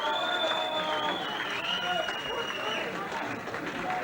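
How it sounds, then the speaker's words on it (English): Applause and cheering from a crowd at a seaside event in Great Yarmouth, a dense, steady wash of clapping mixed with voices and shouting throughout, with a whistle-like tone running over it. "Come on, give them applause."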